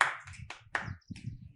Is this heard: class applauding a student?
yes